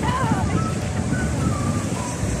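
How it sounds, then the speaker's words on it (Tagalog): Wind blowing across a long beach at Pyrgi, a steady rushing roar of air buffeting the microphone, with faint tonal whistles running through it throughout. "Hangin."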